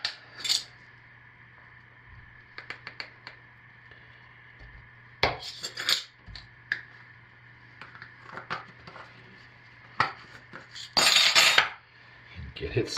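Mica colorant is stirred into soap batter in a container, giving light clinks and scrapes of a utensil in scattered bursts against a faint steady hum, with one longer scraping stretch near the end.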